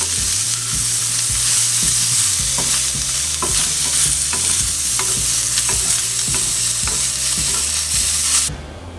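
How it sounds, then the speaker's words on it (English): Bacon goes back into a hot pan and sizzles loudly and steadily up close, with occasional stirring scrapes and clinks over the frying hiss. "Add back the bacon."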